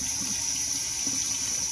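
Water runs steadily through a MAXBLUE inline drinking water filter, a constant hissing flow like an open tap, even and moderately loud with no voices.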